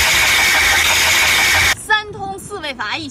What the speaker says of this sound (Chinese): 机油泵异响